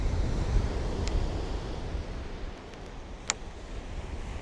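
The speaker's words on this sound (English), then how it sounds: "A little bit of an onshore wind." Onshore wind gusts across Shoreham Beach in West Sussex with surf rolling beneath, a rough, broad roar strongest at the start and easing slightly, with a couple of faint brief clicks and no talking.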